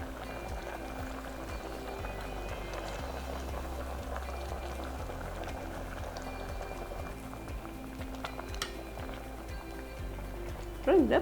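Kadamba sambhar simmering in a pot, bubbling in a steady, continuous low boil that runs evenly throughout, with a brief louder clatter right at the end.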